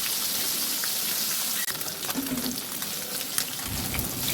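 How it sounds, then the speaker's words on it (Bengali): Folui fish frying in hot oil in a kadai with turmeric sprinkled in, giving a steady, dense crackling sizzle that runs close and even throughout. "এখন মাছগুলো ভেজে নেব"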